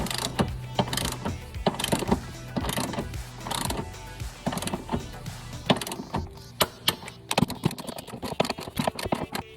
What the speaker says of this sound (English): these are actually getting torqued to 56 foot-pounds